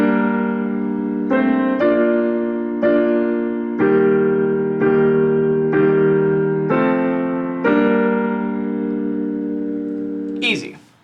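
Piano plays the verse melody of a song as a slow run of sustained single notes over held chords, close and steady for about ten seconds before a brief noisy burst at the end.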